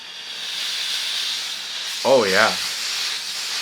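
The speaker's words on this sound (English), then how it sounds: "So low mode is actually pretty decent, pretty consistent amount of steam." A handheld clothes steamer on high mode gives a steady loud hiss of steam throughout, while someone briefly speaks partway through.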